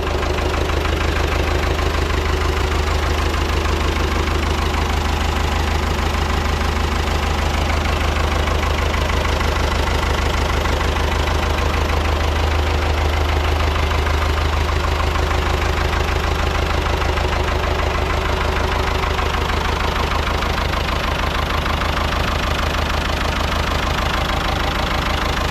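A Ford 6600 tractor engine runs after sitting eight years, a loud, close, steady diesel idle with a heavy low throb and a knocking rhythm that continues unbroken throughout.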